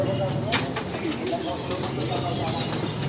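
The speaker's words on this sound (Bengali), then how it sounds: "এই হচ্ছে কবুতর" Pigeons in a loft cooing softly through a steady background hum, with voices talking over them.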